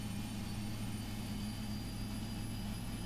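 Boeing 777-300ER jet engine spooling up during start in the Prepar3D flight simulator, a faint, steady whine and low rumble with a constant high tone, continuous and unchanging.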